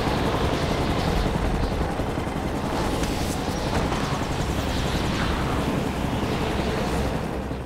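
A helicopter in a film scene makes a loud, continuous, rumbling roar, mixed with rapid bursts that sound like gunfire, all heard close and dense throughout.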